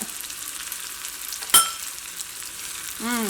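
Curry leaves and shallots sizzle in hot sesame oil, a steady close frying hiss broken by a sharp clatter partway through.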